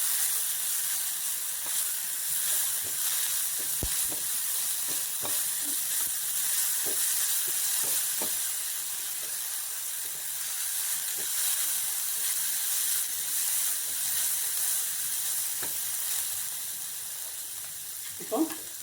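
Potatoes and carrots sizzle and fry in a pan, a steady close hiss throughout with occasional faint clicks of stirring.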